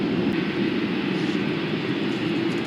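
A light aircraft, a Cub-style clipwing plane, cruising at about 2450 RPM in flight, its engine droning as a loud, steady, close continuous roar.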